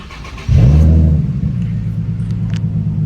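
A Nissan 350Z Nismo pulls away and drives, its engine note surging suddenly into a low steady rumble that holds close and loud, with no talking.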